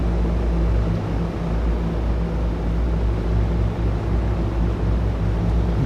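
A P-38J-25 twin-engine fighter idles at about 1300 RPM while taxiing across a grass airfield in the Il-2 flight simulator, giving a steady, loud, continuous low engine rumble with no speech.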